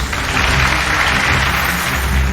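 An audience at Wat Fai Hin temple in Chiang Mai applauds in a loud, dense, continuous wash of clapping that holds steady for a couple of seconds with no speech over it.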